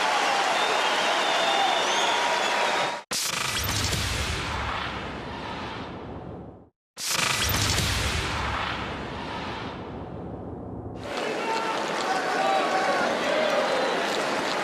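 A tennis crowd at Melbourne 2012 applauds Lleyton Hewitt during his third-round match against Raonic. The clapping is loud, dense and sustained, with two brief drop-outs before it swells again.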